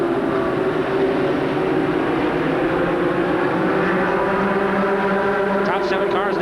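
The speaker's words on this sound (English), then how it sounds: "9-to-1 motors, V6 power plants inside these cars." V6-powered ASA stock cars with 9-to-1 compression engines race down the front straightaway at Jennerstown Speedway, a loud continuous engine roar with droning harmonics, and a commentator talks over it.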